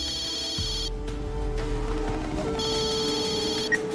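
An incoming call sets a phone ringing in a Tamil TV drama scene: two electronic ring bursts separated by a pause, over a low background hum.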